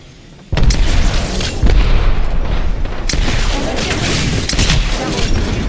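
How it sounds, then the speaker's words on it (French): A frag grenade in a video game detonates with a loud, sudden boom, followed by a long, heavy rumble of blasts and battle noise that keeps going with no break. "Je lance une grenade frag"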